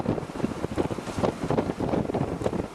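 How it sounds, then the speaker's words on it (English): Gale-force wind of around 30 knots roaring over a sailing boat approaching the entrance to the Deben, a loud continuous buffeting rush against the microphone with no talking. "I think this gale's got here a bit quicker than I expected."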